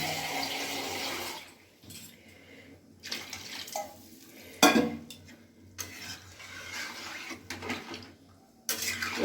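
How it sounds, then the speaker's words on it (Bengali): Water poured into a pan of frying potol chingri curry with taro, potato, pointed gourd and prawns, a gushing splash over sizzling oil with stirring clatter, close and fairly loud without talk. "এবার আমি জল দিয়ে দিচ্ছি পরিমাণ মতো জল দিচ্ছি"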